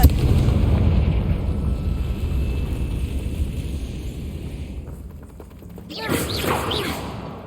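Confringo blasting spell explosion in Hogwarts Legacy, a loud booming blast with rumbling debris that fades over several seconds, followed by a short burst of voice and game effects.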